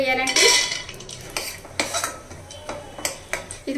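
A handful of peanuts is tossed into hot oil in a cooking pot, giving a burst of clattering, rattling hits followed by scattered lighter clinks and scraping knocks, close and fairly loud with no talking.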